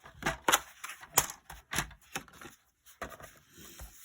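Scissors cut a small piece off folded card paper for a tri-fold card, with several close, sharp snips and short scraping cuts in an otherwise quiet room.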